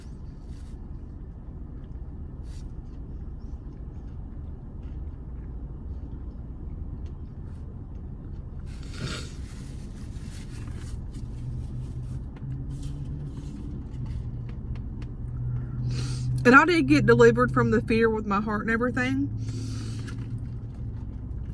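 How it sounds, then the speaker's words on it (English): A car engine idles with a steady low rumble that runs the whole time beneath a person talking, with a brief louder patch near the end. "I'm gonna turn my car off for a minute."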